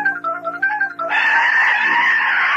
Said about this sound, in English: It's only a bird.